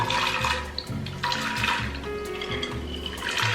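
Hot water poured steadily from a kettle, a continuous splashing gurgle with a brief pause partway, close by and fairly loud.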